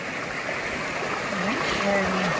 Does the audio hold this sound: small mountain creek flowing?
yes